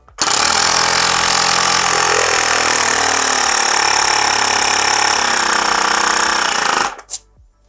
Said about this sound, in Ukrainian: давайте послухаємо і побачимо, як спрацьовує функція автостоп і наскільки потужно працює компресор